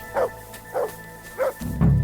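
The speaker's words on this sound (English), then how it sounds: "Good dog, Mutz. Show me" A dog in Kingdom Come: Deliverance II barks four times at an even, unhurried pace, fairly close and clear, with a low rumbling noise rising under the last bark.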